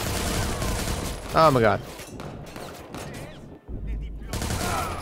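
Gunfire in the open-world game Watch Dogs 2, rapid bursts cracking around a man's exclamations, with a brief gap of near silence midway before the shots and background noise resume.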